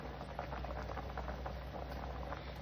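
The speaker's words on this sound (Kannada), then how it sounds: "ಈಗ ಮಸಾಲೆ ಇಲ್ಲಿ ಕುದಿಲಿಕ್ಕೆ ಶುರು ಆಗುವಾಗ ಈ ತೊಳೆದು ಸ್ವಲ್ಪ ಹೊತ್ತು ನೀರಲ್ಲಿ ಇಟ್ಟರು ಆಗ್ತದೆ, ಈ ಒಣ ಸಿಗಡಿಯನ್ನು ಇದಕ್ಕೆ ಹಾಕ್ಬೇಕು" Masala curry with dried prawns and mango simmers in a pot, a steady low bubbling hiss with faint popping throughout.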